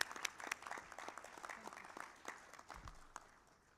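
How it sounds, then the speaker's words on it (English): Audience applause at an international council leadership event, a steady spatter of many hands clapping that sounds somewhat distant and quiet, fading gradually toward the end. "ask you all to join me in applauding her."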